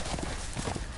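Horse hooves clip-clop in a quick, continuous rhythm in the Game of Thrones Telltale video game, busy and close amid other game sounds.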